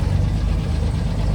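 A Willys CJ5 Jeep with a swapped Chevy 4.3L V6 engine runs close by, a steady, loud, low rumbling drone with no breaks.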